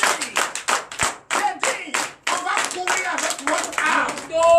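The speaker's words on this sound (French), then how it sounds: "Donnez l'acclamation encore à Jésus" A church congregation claps and cheers in acclamation during a night prayer service, loud rhythmic bursts of many hands clapping close by, broken by short pauses, with voices calling out between claps.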